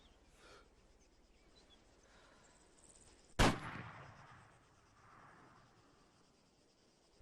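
A single Lynx sniper rifle shot in Arma 3, one sharp loud crack with a brief rolling tail over faint background noise.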